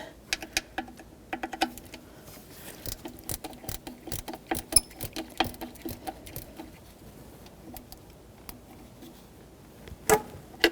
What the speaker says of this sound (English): I'm going to get my 10mm socket and ratchet, snug it up